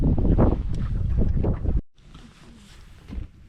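Wind gusts across a lake while fishing for perch from a boat in Ireland. Loud rumbling buffets hit the microphone for nearly two seconds, then a softer steady breeze continues with light movement noise.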